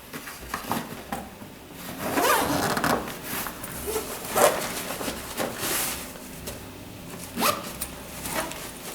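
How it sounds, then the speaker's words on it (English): An inner cloth flap zipper on a chair pad set being zipped closed, several short rasping pulls and rustles of fabric up close, with no talking. "we need to zip that inner cloth flap"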